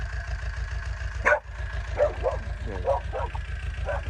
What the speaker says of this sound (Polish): Na co pies szczeka.